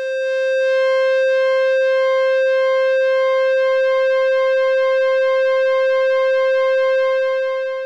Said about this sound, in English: So that's your normal pulse width modulation sound.